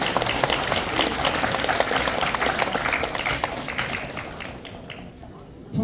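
Wedding guests applaud to welcome the officiating pastor at a church wedding ceremony in Cheongju, a dense steady wash of clapping with voices mixed in that thins out toward the end.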